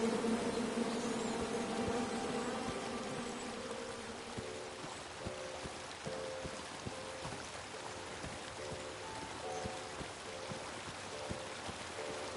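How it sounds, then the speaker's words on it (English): Angry bees buzzing from a tree in the King's Quest video game, a steady insect drone under faint rhythmic game music, with no talking. "And then you chop down the tree full of angry bees?"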